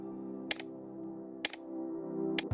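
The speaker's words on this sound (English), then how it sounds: "a guitar pedal clicky switch" Three sharp mechanical clicks from a raw guitar pedal switch, each a quick double snap, spaced about a second apart over a faint steady low hum.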